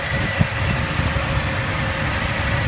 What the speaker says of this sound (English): You can see that the engine runs great.